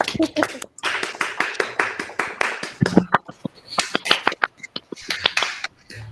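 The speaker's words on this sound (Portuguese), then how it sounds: "Palmas aqui, né? Tradicionais." An audience claps at a book pre-launch gathering. The sharp, uneven hand claps come close and loud in a continuous burst, with a few brief pauses, while people talk over them.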